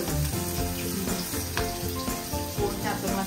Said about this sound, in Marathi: आता आम्ही यामध्ये तेल घालून ठेवलंय, तापवून घेऊया. त्यानंतर आपल्याला कांदा टाकायचा.